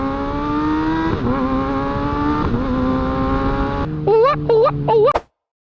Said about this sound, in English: So this is a 2023 Kawasaki ZX-6R, also known as 636.